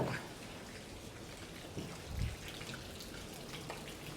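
Heavy storm rain patters and drips steadily on surfaces in a theatre yard, with a couple of heavier splashes near the middle.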